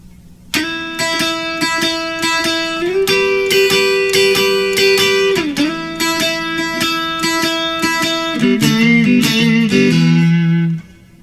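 An electric guitar plays the opening riff of a song, bluesy with bends and slides, loud and close, ringing chords and single notes for several bars with no talking.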